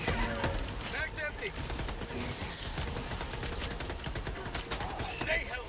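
Dense video-game gunfire with rapid bursts and scattered single shots runs throughout the five-second span. It stays loud and continuous under frantic overlapping player chatter.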